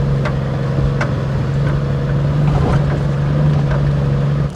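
A steady, droning vehicle engine under engine braking, without the brakes applied, hums at a constant pitch from start to end, loud and close, with faint road noise.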